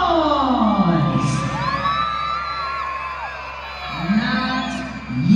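Circus audience at a winter circus spectacular cheering, whooping and shouting before a human cannon jump, with children's shrieks, a loud surge of cheers early, a lull, then a second burst of crowd noise near the end.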